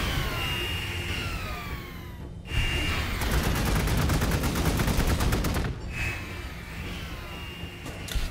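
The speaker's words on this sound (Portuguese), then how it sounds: "Tivemos que tomar tiro da fortaleza deles" In Warhammer 40k: Gladius, an enemy fortress fires on the player's units with loud, sustained rapid gunfire, a dense rattling barrage that swells and drops across several bursts, with other game sounds layered underneath.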